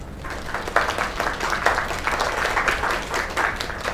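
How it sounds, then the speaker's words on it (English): Steady applause from a crowd in a video game, dense clapping sustained throughout at moderate loudness with no voices standing out. "Another round of applause."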